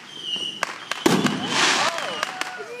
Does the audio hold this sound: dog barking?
no